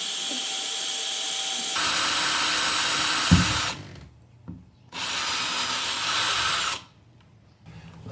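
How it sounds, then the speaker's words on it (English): A power drill bores a small pilot hole through a door to fit a smart lock, two sustained high whining bursts separated by short pauses, close and loud, with no talking. "I'm just going to drill a little pilot hole through to the back."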